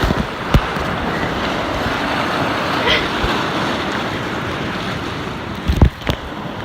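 A raft rides over a small, splashy diversion drop on the Boise River, with steady rushing water and surf-like wash, wind buffeting the microphone, and a few sharp knocks and splashes near the end.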